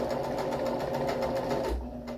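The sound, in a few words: sewing machine stitching fringe cushion cover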